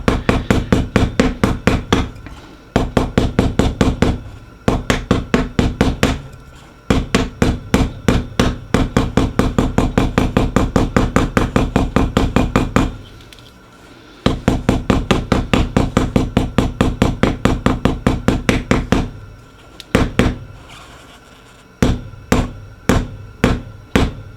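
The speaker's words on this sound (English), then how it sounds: "start crimping them down into place nice and tight" Repeated sharp hammer blows crimping metal cap cans down tight, struck in fast rhythmic bursts with brief pauses between runs, close and loud with no talk.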